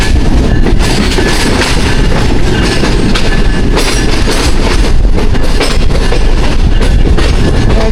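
The Kohat Express passenger train rolls along a railway platform in Pakistan, producing a loud, continuous rumble with rhythmic clattering of wheels and carriages, close by and steady throughout.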